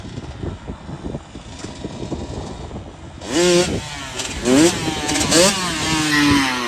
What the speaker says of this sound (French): tu entends le moteur qui ralentit du coup, vu qu'il accélère plus